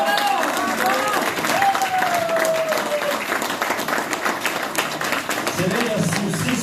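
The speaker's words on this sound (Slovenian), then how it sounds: "Ja, še en aplavz za tako lep skok." An audience applauds a ski jump at a competition with steady, dense clapping, and a voice speaks over it.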